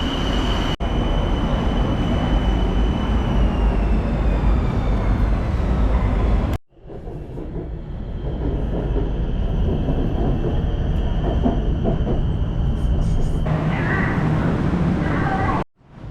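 A train rolls into a station in Bangkok close by with a loud rumble and rising metallic screech, a brief pause, then continued heavy rail clatter and hiss.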